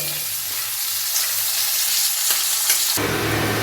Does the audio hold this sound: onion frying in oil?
yes